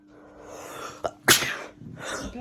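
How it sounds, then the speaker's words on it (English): A single sharp sneeze, close and loud, preceded by a small catch of breath and followed by breathy exhaling, with no talking. "Bless you. Bless you."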